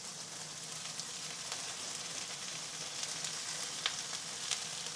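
Vegetables and bean sprouts sautéing in a pan, a constant close hiss of frying with faint crackles and a few small pops, no talking.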